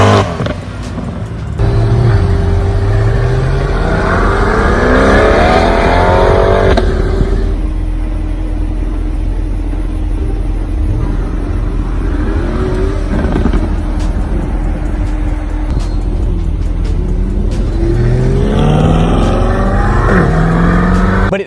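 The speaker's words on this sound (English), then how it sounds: "I have heard the exhaust noise and I'm gonna play a little clip for you" A 2020 Chevrolet Corvette C8, mid-engine, revs its exhaust loudly and close by, the engine note rising and falling through several aggressive pulls with a steady rumble underneath.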